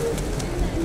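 Pigeons coo softly beneath a loud, steady outdoor background rumble.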